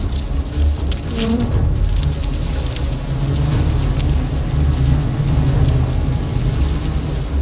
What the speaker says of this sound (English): They swarm, immobilizing it.